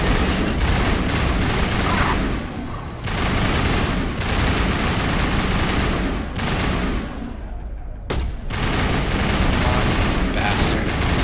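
Sustained bursts of loud, close automatic gunfire from an overheating gun in Mass Effect, broken by brief pauses, with rapid dense shots filling the whole stretch.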